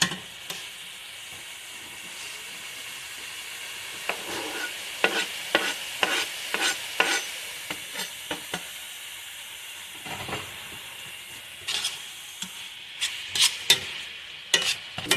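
Garlic and sesame seeds sizzle in sesame oil with a soft steady hiss. A spatula stirs and scrapes the pan in repeated short bursts, close by and without talk.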